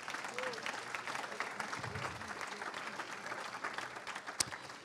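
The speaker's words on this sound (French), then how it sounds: "on peut les applaudir." An audience at a Renaissance party national council claps for newly elected members of the Assembly of Territories, a steady wash of hand claps filling the hall throughout with a sharp clap standing out near the end.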